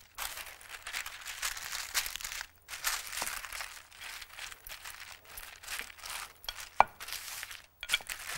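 Oiled hands flattening kibbeh dough for Mosul-style kibbeh: a continuous close, moist slapping and smearing rustle with short pauses and an occasional sharper tap.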